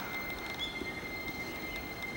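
A JR 211 series train pulls into a station platform at Koganei, giving a faint steady rumble of wheels on rails with a thin high squeal running throughout.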